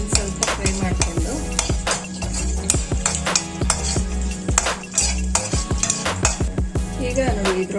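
Curry leaves and a chili sizzle in a pan while a spoon stirs them. Close, rapid metallic scrapes and clinks repeat against a steady sizzle, with no talking.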